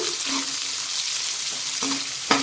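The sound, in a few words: sliced onions frying in a pan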